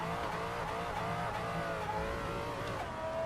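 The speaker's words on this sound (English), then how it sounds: "Maserati is entering the drifting game." A Maserati drifts in the Assetto Corsa racing game, its engine holding a loud sustained snarling tone with shifting pitch while tires scrub and skid beneath, no voices.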